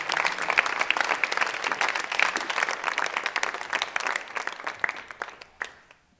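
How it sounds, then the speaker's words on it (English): Winter choir concert audience at Canfield High School clapping for the choral boosters, brisk dense applause that holds steady then tapers off and fades out in the last second. "can we just give a big round of a hand for our boosters?"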